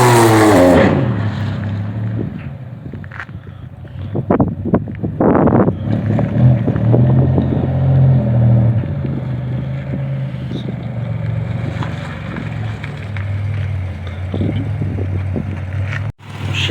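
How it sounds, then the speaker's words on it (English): A Pontiac Grand Am revs hard for a burnout, the engine roaring in surges with rising and falling bursts, close and loud, with wind buffeting the microphone and a sharp cutoff near the end. "record me doing a burnout real quick"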